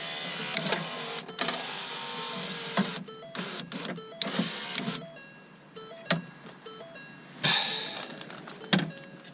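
A front power window motor on a 2012 Ford Focus with a dead spot whirs in short, uneven bursts, starting and stopping with clicks and thumps, close and loud with no talk.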